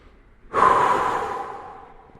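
An exerciser takes a single loud breath, a sharp onset easing into a long, fading exhale, while resting between sets of a floor workout.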